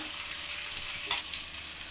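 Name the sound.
paneer kofta balls frying in oil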